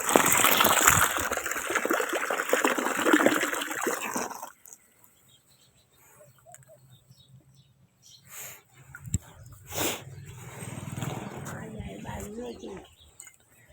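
In a village setting, water gushes out in a loud, rushing burst for several seconds, then drops to quiet with scattered faint splashes and distant sounds.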